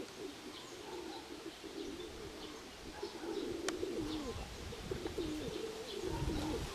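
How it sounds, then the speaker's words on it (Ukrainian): Soft, low pigeon cooing repeats throughout, with a few faint chirps and a brief flutter nearby. "сьогодні просто тут у мене голубів лякають"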